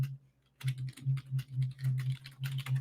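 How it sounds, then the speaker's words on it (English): Close, rapid keystrokes clack on a computer keyboard in an irregular rhythm after a brief pause, with no voices. "Y'all hear me clicking and clacking on my keyboard?"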